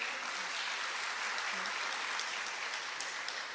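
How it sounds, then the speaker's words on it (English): Faint, steady applause from an audience at an anti-crime town hall meeting in Trinidad and Tobago, a soft wash of clapping heard at a distance with no one speaking over it. "Can we welcome her, give her a round of applause?"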